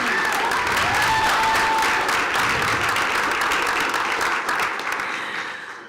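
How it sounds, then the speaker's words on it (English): A room of attendees at a school board meeting applauds a football team's perfect season, with loud sustained clapping that thins out and fades toward the end. "let's applaud that"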